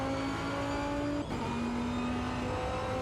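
Corvette C5 race car with a sequential gearbox in Automobilista 2, its engine holding a steady high drone, a brief drop for a quick upshift, then pulling on again, alone and fairly faint.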